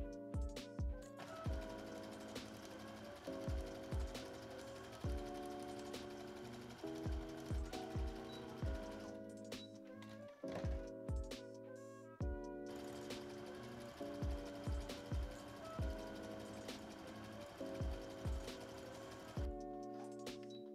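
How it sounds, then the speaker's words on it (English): A sewing machine runs a zigzag stitch along swimwear elastic in steady bursts, its rapid mechanical chatter stopping and restarting with short pauses between runs, close and alone. "I'm just going to zigzag stitch it around the back like this"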